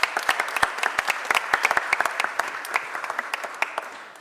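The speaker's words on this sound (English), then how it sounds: "Give her a round of applause." Audience applause for Donna Cooper at a Philadelphia education-funding event with Mayor Cherelle Parker, a burst of sharp, fairly close claps that thins and softens toward the end.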